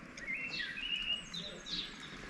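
Birds chirp and sing in thin, high trills against a soft outdoor hum in a Bulgarian town, moderately distant and fairly quiet.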